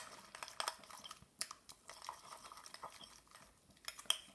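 A slime mixture of boric acid and water being stirred, with soft wet squelches and scraping taps in an irregular rhythm, quiet and close with no talking.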